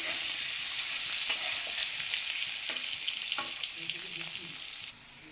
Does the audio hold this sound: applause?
no